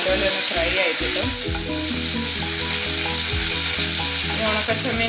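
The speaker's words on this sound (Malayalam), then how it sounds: "കറിവേപ്പില ആണെങ്കിൽ ഒന്ന് ഫ്രൈ ചെയ്യുമ്പോൾ ആദ്യം തന്നെ ഇടുവാണെങ്കിൽ നല്ലപോലെ ഒന്ന് ഫ്രൈ ആയി കിട്ടും" Curry leaves frying in hot oil with ginger and green chili for a dried shrimp fry, a loud, close, continuous crackling sizzle with occasional spatter pops.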